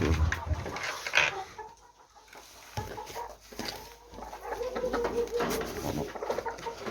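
Laying hens inside an unheated chicken coop in Dnipro in the evening, soft clucks and murmurs from several birds close by with rustling, continuing without talk.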